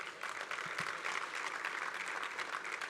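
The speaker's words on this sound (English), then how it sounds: "You can clap at that if you want." An audience at a labor federation gathering breaks into steady clapping, a dense even patter heard from a distance at moderate volume with no voices over it.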